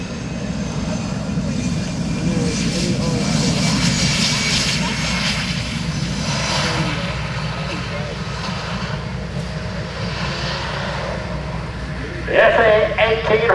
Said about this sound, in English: just plants the airplane onto the runway as though he were coming aboard the carrier